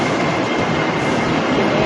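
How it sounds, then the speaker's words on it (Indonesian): Interior of a moving KRL commuter train: a steady, loud rumble of wheels and carriage noise runs unbroken throughout, with no voices. "suasananya di kereta"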